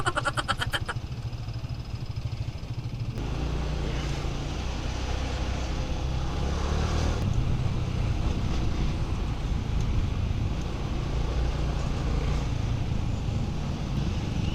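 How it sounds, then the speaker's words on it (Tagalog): Steady road traffic near a school, with engines and passing vehicles rumbling continuously close by and some wind buffeting the microphone, no talk. "So ito nga yun no, dyan namamaga yung traffic"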